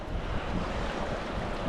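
Steady wind gusting across water during a fly fishing outing for cutthroat trout, a constant broadband rush with microphone buffeting and no clear breaks.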